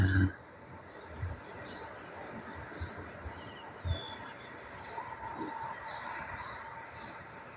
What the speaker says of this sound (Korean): 앞산에는 뻐꾸기가 울고